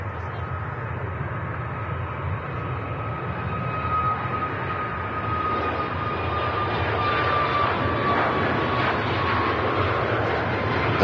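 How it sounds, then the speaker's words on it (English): A Ryanair Boeing 737 MAX 8200 rolls for takeoff at Manchester Airport, its jet engines a distant, steady rumble that slowly swells in loudness with a faint high whine. "Ryanair to Alicante, the 737 MAX 8200 that we followed out is now on the roll"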